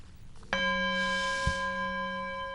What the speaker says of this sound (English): The mindfulness bell